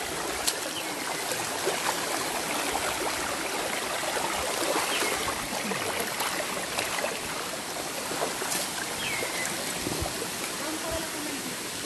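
Constant rushing and trickling of a cold mountain stream on Mt. Domire, close and steady with bright splashing detail throughout.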